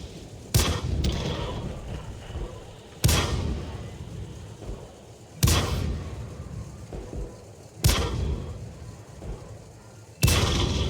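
Tank destroyer main gun firing in World of Tanks, five heavy booming shots spaced about two and a half seconds apart, each with a sharp blast and rumbling decay over steady engine and battle noise.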